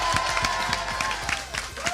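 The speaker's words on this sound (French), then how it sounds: "on l'applaudit" An audience at a live stream show applauds, with dense clapping, a few distinct close claps and faint cheering, all blended with a low rumble of background noise.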